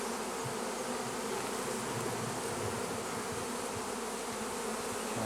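Honey bees buzz densely and continuously around a hive, a close, steady swarm drone throughout with no talking.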